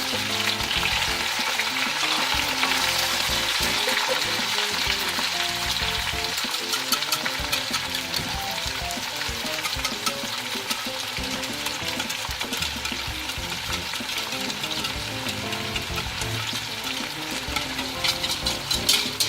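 Chicken and tomatoes sizzle and fry in a pan for spicy Sindhi biryani, a continuous crackling hiss with occasional stirring scrapes, steady and close throughout with no voices.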